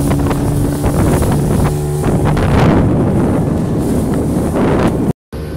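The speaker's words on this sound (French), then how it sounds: "je vous laisse le son et vous allez vous rendre compte de la puissance du vent" Strong wind roars over a fast-moving small boat heading to Paloma island, a loud, continuous blustery rush over the engine drone that breaks off briefly near the end.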